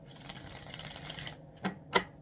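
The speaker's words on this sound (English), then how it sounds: "One more nice shuffle here for you" Tarot cards shuffled by hand during a reading, a close, dense riffling flutter followed by two brief taps as the deck settles.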